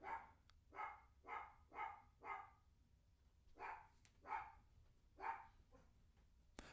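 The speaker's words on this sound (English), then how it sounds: "my dog's going off" A dog barks repeatedly in an indoor setting, a rhythmic run of four barks, a pause, then several more spaced barks, somewhat distant and quiet, with no voices.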